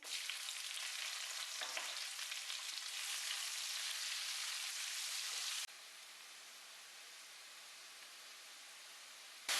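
Chopped onions sizzle steadily in a hot pan with cumin, a close, constant frying hiss that drops noticeably quieter partway through.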